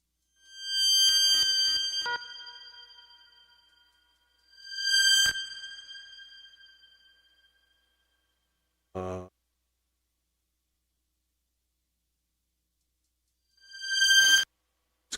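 Bright Eurorack modular synth tones with a shimmering chorus effect play in separate bursts, each swelling and fading out, with silent gaps between them.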